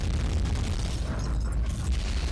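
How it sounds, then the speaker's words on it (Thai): A rocket blast from a Skibidi Toilet animation fight with Titan SpeakerMan: a dense, rumbling explosion that fills the whole moment with continuous low booming and crackle, loud and sustained. "ยิงจรวดเข้ามา"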